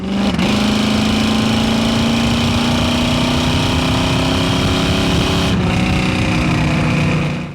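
A 1968 Chevrolet Camaro with a small block 400 V8 accelerates hard, its loud, steady engine drone climbing gradually in pitch after a brief downshift blip near the start, with another shift-like break near the end and no talk.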